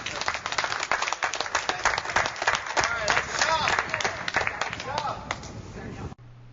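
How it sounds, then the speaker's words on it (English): A crowd at a Shopping Waukegan Day community event in Waukegan gives a dense, sustained round of applause with cheering voices mixed in. It fills nearly the whole stretch before cutting off abruptly at the end. "let's everybody give all the people in Waukegan that have brought things to this point and been here for Shopping Waukegan Day a big round of applause"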